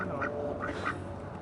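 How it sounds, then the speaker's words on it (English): A few nasal duck quacks sound in short bursts, fairly close, over a quiet outdoor background. "They're pretty ducks."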